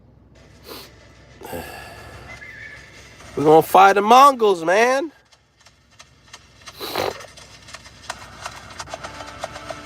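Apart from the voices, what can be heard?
horses neighing and hooves in a video game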